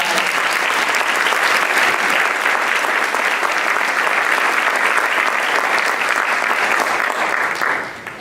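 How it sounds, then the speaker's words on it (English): At an Urban League of Greater Atlanta annual meeting, a large crowd applauds loudly and steadily for several seconds, a dense wash of clapping that fades out at the end. "the applause is really due to the Urban League"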